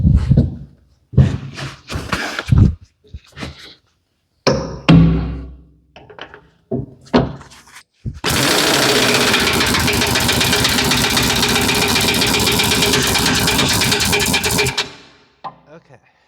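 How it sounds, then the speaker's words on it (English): An impact wrench tightens a blade bolt on a Rhino 15-ft flex wing rotary cutter in a long, loud, steady rattling burst of roughly seven seconds. Short bursts of nearby talking and clunks come before it. "when I put the impact wrench on it. And then we'll tighten it up."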